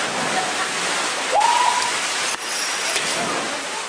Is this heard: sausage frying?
no